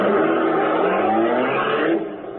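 A car pulls away in an old-time radio crime drama about horse-race hijackers, its engine revving loudly and steadily for about two seconds before dropping off, with no talk over it.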